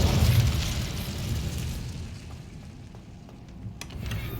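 An Incendio fire spell cast in the game Hogwarts Legacy bursts with a deep whooshing boom that fades over a few seconds into a low crackling rumble, with a faint pop near the end.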